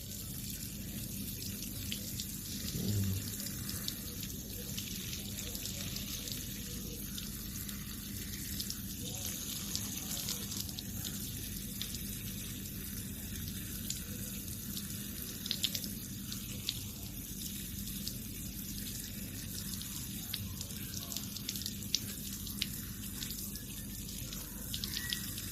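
Water pours steadily over the potting media of a freshly repotted Aglaonema plant, a continuous close splashing flow like a running tap, lasting throughout with a few drips and faint speech underneath.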